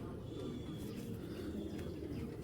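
Giribaz tournament pigeons in a cage, soft low cooing murmur running steadily throughout, fairly quiet and close, with faint background noise.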